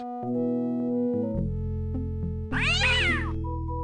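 A cartoon cat meows loudly once in the point-and-click adventure game Day of the Tentacle, a drawn-out wavering yowl that rises over steady game music, with no one talking.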